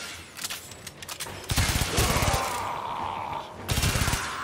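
Bursts of rapid Baza Prime SMG fire in Warframe, several short volleys of clattering shots at moderate loudness over a game ambience.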